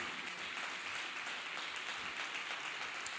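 Church congregation applauding together, a dense, even wash of clapping hands that holds steady and fairly faint throughout, with no voices standing out.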